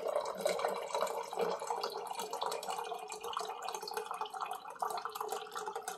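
Cold water runs from an Electrolux PE11X purifier into a cup, a steady, close stream with a faint dripping texture and no talking.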